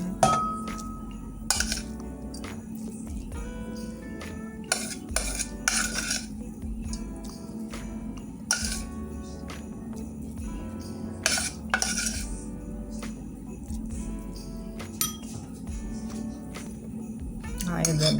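Dishes and cutlery clinking while pepper steak with onion, broccoli and fluffy quinoa is plated, scattered sharp taps and scrapes of utensils on plates at close range, with a person talking over them.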